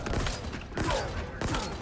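Gunfire in the video game Halo Infinite comes as loud, dense bursts of shots, with two or three volleys separated by short gaps.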